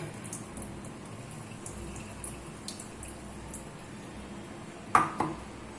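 Water poured off settled palua (arrowroot) starch in a bowl while preparing sweets; a faint, steady trickle runs quietly, ending in a brief sharp clatter near the close.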